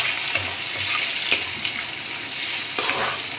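Capsicum drops into chicken frying in a pan, a steady close sizzle with a few sharp crackling bursts and stirring scrapes as the pieces hit the hot oil, no voices.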